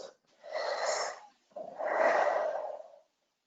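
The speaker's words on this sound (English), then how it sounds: "And then breathe." Two long, deep breaths taken close and clearly during a forgiveness session, a drawn inhale followed by a fuller exhale with a short pause between them, with nobody talking.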